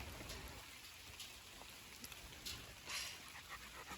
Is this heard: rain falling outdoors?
yes